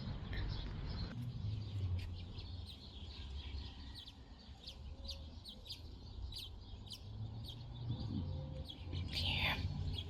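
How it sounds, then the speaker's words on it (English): Birds chirp outdoors in the early morning, with short, high, scattered calls repeating throughout over a low, rumbling background and occasional faint voices nearby. "There were some birds chirping around here early in the morning, and it was chirping back"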